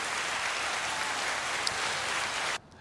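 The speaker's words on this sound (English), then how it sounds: "Let me bring up some applause for the new segment." Crowd applause sound effect as a dense, steady wash of clapping at moderate level, running without pause for over two seconds before cutting off abruptly.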